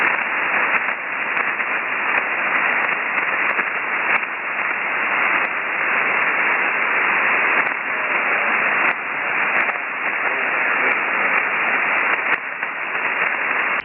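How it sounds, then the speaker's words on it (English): Ham radio receiver hiss and static on an SSB net, with a steady wash of noise that pulses and dips as the signal fades in and out, and no voice coming through. "I think we got a little bit of QSB."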